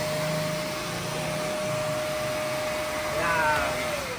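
Blower attachment on a 3-in-1 pelletizer and pulverizer machine runs with a steady, loud broadband whoosh and a faint constant whine, rising slightly near the end as its pitch shifts.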